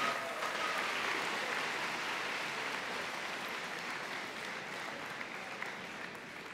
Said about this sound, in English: Let's once again give a big round of applause to those students graduating with their silver honor